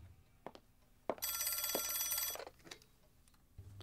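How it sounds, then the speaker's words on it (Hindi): Telephone bell ringing in a dubbed Hollywood ransom thriller, one sustained bright ring of about a second and a half, loud and close, with short knocks and clicks before and after and no talk over it. "फोन बज रहा है।"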